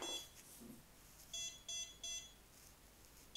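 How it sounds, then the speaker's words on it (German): A BetaFPV LiteRadio 3 radio controller beeps during calibration after an ELRS 3.0 update, with short, faint, high electronic tones in a quiet room, followed by a soft pause. "Dann habe ich zweimal Piepston."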